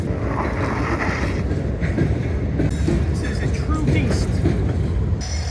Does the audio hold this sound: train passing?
yes